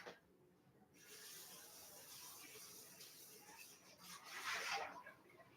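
A bowl being rinsed under a running kitchen tap after holding a marinade, a steady broadband water hiss that swells louder near the end before easing off.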